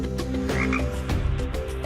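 A frog croaks loudly and close in a steady, throaty, rhythmic series of pulses that fill the whole moment without pause, with no voices.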